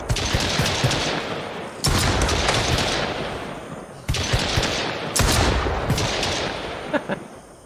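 Pistol gunfire in the survival video game Mist Survival, several loud booming shots, each followed by a long echoing decay, spaced a couple of seconds apart.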